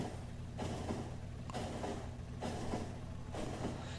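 A train in the video game Factorio rumbles past steadily with rhythmic, repeating clatter bursts roughly every second, moderately loud and without voices.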